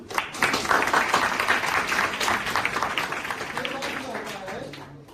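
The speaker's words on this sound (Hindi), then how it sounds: "इस बच्चे के ताली बजाओ भाई" Classroom audience of children and teachers clapping for a child, a dense, steady burst of applause with voices mixed in throughout.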